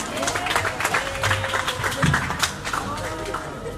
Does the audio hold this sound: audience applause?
yes